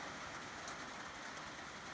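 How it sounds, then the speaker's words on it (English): Steady rain falls on a beach, a dense, even hiss of drops on sand and water that holds at the same level throughout, with no voices. "It's raining, the sun came out."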